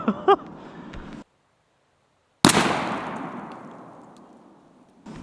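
A Mossberg 510 Mini 20 gauge shotgun loaded with 2 3/4 inch, 1 3/8 ounce number 9 shells fires a single sharp, close blast that decays over a couple of seconds, preceded by faint handling clicks.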